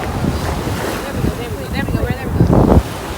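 Ocean waves and strong wind on a Miami beach, with heavy wind buffeting and surf washing in close and loud, building to a louder rush near the end.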